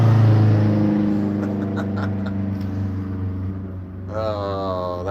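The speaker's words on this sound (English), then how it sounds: "Oh, that was a little Subaru WRX." A Subaru WRX drives by, its steady engine drone loud and close before easing off, with a rising whine near the end as it pulls away.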